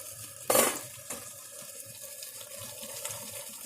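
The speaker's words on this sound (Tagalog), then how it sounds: "Yan, rinse na natin yung pork." Pork being rinsed under running water for a Chinese soup: a soft, continuous water flow with a sharp clatter near the start and a lighter knock shortly after.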